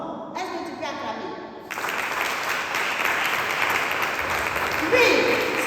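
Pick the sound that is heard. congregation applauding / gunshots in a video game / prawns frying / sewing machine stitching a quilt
congregation applauding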